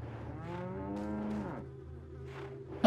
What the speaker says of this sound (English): Is that the cow moving around that I can hear?